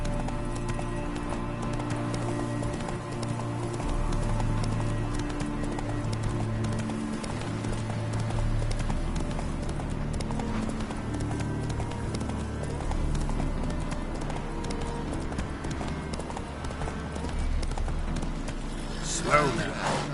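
Hooves clip-clop rhythmically as a horse gallops in The Witcher 3: Wild Hunt, with an occasional whinny over a low game soundtrack and a voice speaking intermittently.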